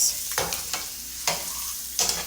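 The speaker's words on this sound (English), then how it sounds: "we'll be frying them a little bit" Boiled eggs being fried and stirred in hot oil for egg curry, giving a soft steady sizzle broken by three or four louder scraping stirs, close and fairly quiet, with no talking.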